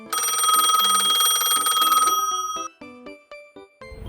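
A telephone in a Barbie cartoon rings loudly and close for about two seconds with a rapid electronic trill, then gives way to a short series of descending musical notes.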